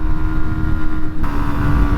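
Yamaha 125 motorcycle engine screams at high revs against the rev limiter, a loud steady buzzing drone with wind rush, briefly stuttering and dropping in tone partway through before holding high again.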